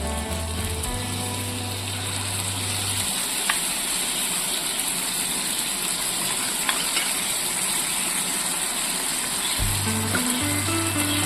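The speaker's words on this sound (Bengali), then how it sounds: "আবারও নেড়ে নিচ্ছি।" Spice paste and taro frying in a pan for a vegetarian taro dum, with a steady sizzle and scraping, clinking stirring throughout, moderately close and continuous.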